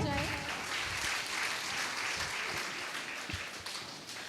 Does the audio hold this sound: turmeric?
no